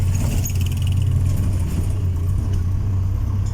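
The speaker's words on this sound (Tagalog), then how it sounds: "Parang eroplano yung tunog ng muffler natin." A loud, deep jeep exhaust fitted with a truck horn rumbles and drones steadily up close, a heavy throaty roar likened to an airplane, with no voices.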